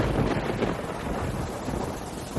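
Heavy rain at night with a deep thunder rumble underneath: a dense, loud, continuous roar that holds steady throughout and then cuts off abruptly.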